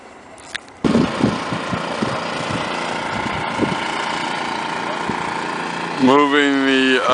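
A 3-inch water pump engine runs steadily at a wastewater treatment plant, a continuous mid-level drone with clattering knocks early on and a voice talking over it near the end.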